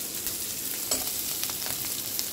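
Onions deep frying in oil give a steady moderate sizzle and bubbling, broken by a few soft stirring scrapes and light clicks, with no one talking.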